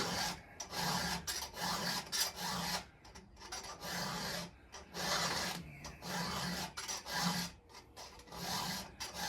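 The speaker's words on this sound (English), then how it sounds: "now the file is in my right hand. I've got the vise set up, so all I have to do is basically push" A hand file rasps across a chainsaw chain clamped in a vise, repeated steady push strokes with short pauses between, close and fairly loud with no talking.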